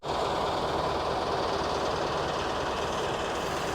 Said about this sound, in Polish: To był właśnie pociąg zwany pociągiem na końcu świata